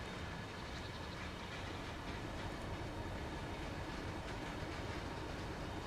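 A Class 31 diesel locomotive in the Train Sim World video game eases up to couple onto a train on the Tees Valley Line, a continuous loud rumble of rolling rail noise with faint clanks and no talking.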